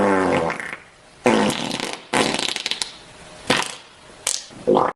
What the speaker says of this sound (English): See, that's how the farting sound effect sounds like.